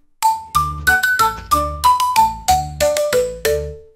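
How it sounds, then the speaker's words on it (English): A cartoon bus bell chimes in a children's Halloween nursery rhyme: a quick run of clear, ringing bell-like dings, about a dozen notes stepping up and down in a bouncy melodic rhythm, bright and close, with no voices. "The bell on the bus goes ding, ding, ding"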